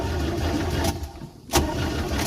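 A Mercruiser 3.0 boat engine running steadily, then briefly dipping and nearly stalling after a throttle change before it picks back up, loud and close.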